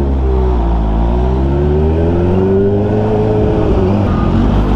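Car engines rumble and rev in slow traffic at a car and bike meet, a loud continuous low drone with one engine's pitch rising and falling nearby.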